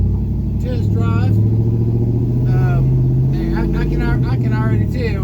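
A car with a 4L60E automatic transmission, just repaired after being in limp mode, drives on a test run, its engine a steady mid-pitched hum and road drone throughout while someone talks over it.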